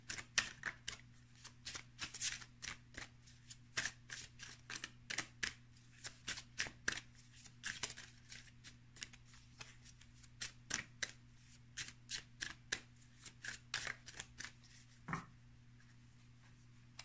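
Tarot cards being shuffled by hand, making a long run of quick papery riffles and taps in uneven bursts, soft and close, over a steady low electrical hum with a brief pause near the end.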